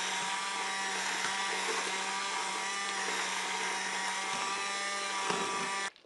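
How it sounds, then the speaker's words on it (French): An immersion blender whirs steadily through strawberry jam made with agar agar, a loud, continuous motor drone that cuts off abruptly at the end. "Et bien voilà, j'utilise un mixeur plongeant."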